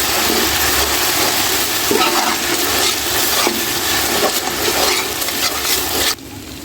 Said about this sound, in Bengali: চামচ দিয়ে একটু ভেজে নেব কাঁচা গন্ধটা যাতে যায়